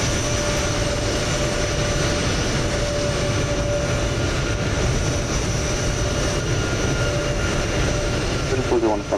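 A330 airliner jet engines in Microsoft Flight Simulator 2020 give a steady, loud broadband roar with a thin whine that holds throughout, while people talk beneath the noise.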